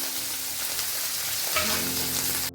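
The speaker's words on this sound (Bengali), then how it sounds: "এটাকে ভেজে নেওয়া হচ্ছে" Boiled dried lote fish (shutki) fries in a pan, a steady close sizzle that grows louder and busier about halfway through as it is stirred.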